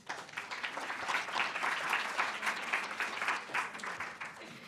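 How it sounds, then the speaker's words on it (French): An audience applauds a secretary general at the close of a 2025 colloquium, steady dense clapping from many hands filling the room for a few seconds, with no talk over it. "On l'applaudit, s'il vous plaît."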